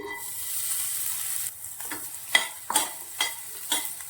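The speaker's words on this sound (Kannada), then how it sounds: "ಸಬ್ಬಕ್ಕಿ ತೊಳೆದು ಇಟ್ಕೊಂಡಿದ್ನಲ್ಲ ಅದನ್ನು ಇದೇ ತುಪ್ಪದಲ್ಲಿ ಹುರ್ಕೊಂತೀನಿ" Washed sabudana (sago) frying in ghee, a steady sizzle at first, then several distinct scraping stirs against the pan in an uneven rhythm, close and fairly loud with no voices.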